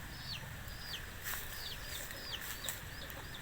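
Chickens cluck and call repeatedly at a distance over a faint outdoor background, with short sharp squawks scattered throughout.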